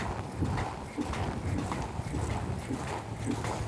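A horse canters in a circle during a riding lesson, its hoofbeats thudding in a steady three-beat rhythm at moderate distance, with wind rushing across the microphone.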